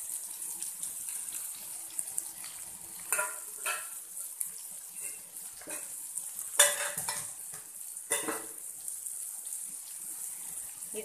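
Slices of elephant foot yam fry in a pan over a medium flame, a soft, continuous sizzle with scattered clinks and shuffles of turning, close and fairly quiet, with no voices.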